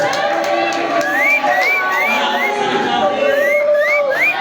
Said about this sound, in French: Et le public d'applaudir encore une fois.